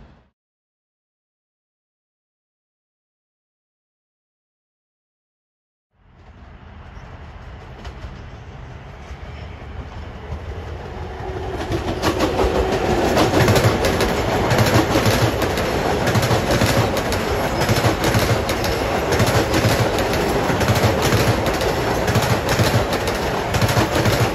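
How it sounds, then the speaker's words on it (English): Long Island Rail Road DE30AC diesel locomotive 422 passing Elmont station: silence, then a rising rumble that swells into a loud, close rattling roll with rhythmic clatter of wheels over rail joints. "Good old DE30AC 422, an engineer's favorite, a retired engineer's favorite."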